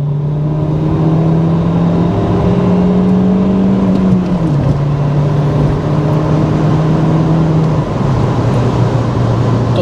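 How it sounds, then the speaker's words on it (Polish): Volvo V40 T4 estate engine revving hard under full throttle in third gear as it accelerates onto a motorway, a steady loud drone rising in pitch with a brief dip at a gear change, heard from inside the car. "Wyjeżdżamy na autostradę, gaz w podłogę. Trzeci bieg."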